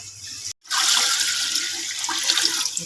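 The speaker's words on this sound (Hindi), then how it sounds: "इसमें हम तकरीबन 2 लीटर पानी डाल लेंगे" About two litres of water pour into a pot for karri pakora as a continuous loud rushing splash, starting after a brief gap and holding steady to the end.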